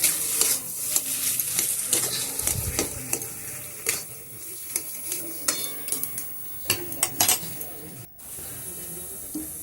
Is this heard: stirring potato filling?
yes